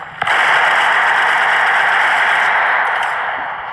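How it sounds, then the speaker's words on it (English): A shotgun fires in a war video game, one sharp blast followed by a loud, sustained crackling noise that slowly fades, with no talk. "This shotgun's way too overpowered."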